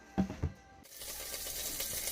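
Olive oil sizzles in a pan on the stove, a soft steady crackling hiss that follows a couple of clinking kitchen sounds at the start.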